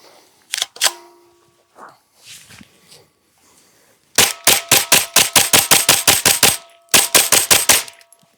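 Rapid strings of gunshots from an M&P FPC folding carbine with an extended magazine, a burst of about ten sharp reports followed by a second burst of about six, after a few quieter clicks and handling noises.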